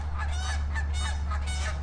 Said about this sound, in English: The geese just showed up. Did you hear them?